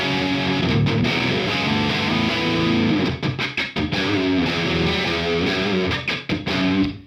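Electric guitar played through a Friedman Twin Sister amp with the reverb switched off, a loud, dense distorted tone with sustained chords and a few brief choppy stops, heard alone without talk.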